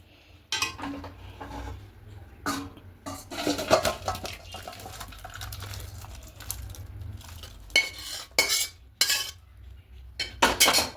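A spoon clinks and scrapes against a metal pot while masoor dal cooked with Malabar spinach is transferred to another vessel, in a series of irregular, fairly close metallic taps separated by short pauses.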